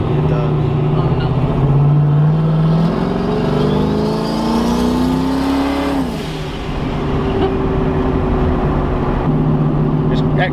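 A 1000hp turbocharged Camaro accelerates hard through the gears, its engine note rising in steady sweeps, shifting, then settling at cruise, loud and close throughout with no talk.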